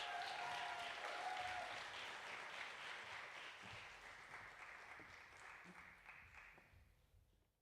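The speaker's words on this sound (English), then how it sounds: "start giving a round of applause as we welcome Ife Michelle to the stage" An audience applauds as a dancer is welcomed to the stage, dense sustained clapping at a distance that slowly thins and fades out toward the end.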